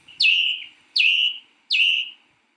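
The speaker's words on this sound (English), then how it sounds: "The sound of the thrush." Three clear, bright thrush phrases, each a short rising whistle falling into a sustained warbled note, evenly spaced with brief silences between.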